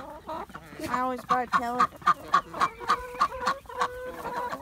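Chickens cluck in a rapid, steady run of short calls close by, a duck among the flock, while a person talks over the sounds.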